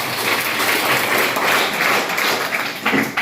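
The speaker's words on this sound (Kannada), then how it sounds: "ಚಪ್ಪಾಳೆ ಹೊಡೀರಿ" An audience claps at a Gandhi and Shastri Jayanti and Shivakumara Swami tribute gathering, a loud, close, continuous patter of many hands lasting the whole stretch, with a slight surge toward the end.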